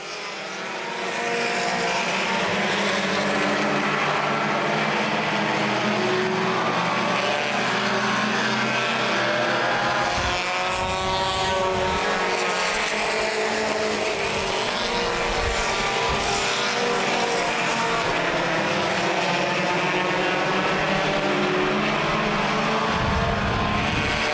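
Mini stock and front-wheel-drive compact race car engines roar continuously at Plymouth Speedway, a dense howl of several cars passing at speed, loud and sustained throughout.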